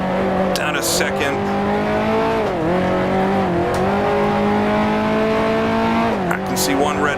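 1955 Formula One race car engine in Grand Prix Legends, a loud close high-revving whine that dips sharply on downshifts a few times, with someone talking over it.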